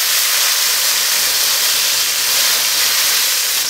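Loud, steady hiss of water hitting a hot wok of mixed seafood stir-fry with bean paste, a continuous broadband sizzle that holds evenly throughout.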